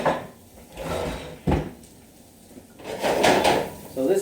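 A wooden kitchen drawer is pulled open and rummaged through while hunting for a pastry knife at home. Several scraping slides and rattling clatters come close and clear, with quiet gaps between them.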